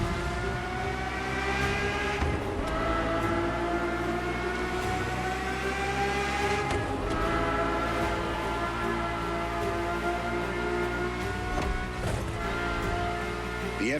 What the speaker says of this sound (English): The F50 is a mechanical symphonia. No turbocharged V8 here. The F50's core is a normally aspirated V12